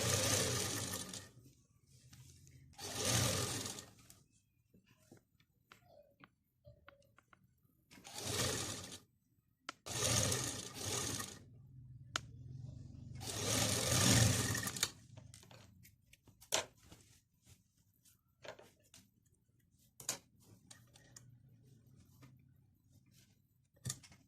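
A sewing machine attaches the sleeve of a feeding kurti, running in several separate bursts of a few seconds each, with quiet gaps and small handling clicks in between.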